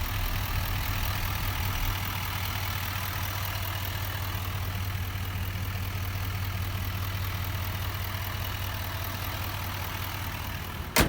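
A 6.6-litre Duramax turbo diesel V8 in a 2018 Chevrolet Silverado 2500HD idles steadily with a low, even drone and rough diesel clatter, alone and unbroken for the whole stretch.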